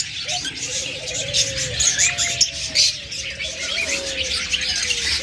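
A breeding pair of pet budgerigars or cockatiels calling at a bird sale, steady near chirps and tweets over a busy background chatter of many birds.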